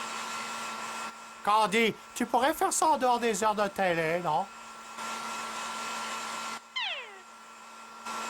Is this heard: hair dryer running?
yes